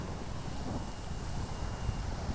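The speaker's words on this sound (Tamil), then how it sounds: "காற்றும் மிக வேகமாகவே இருக்குதுங்க" Strong wind blowing across a seashore where big waves are breaking, a steady loud roar with broadband rumble and microphone buffeting throughout, no voices.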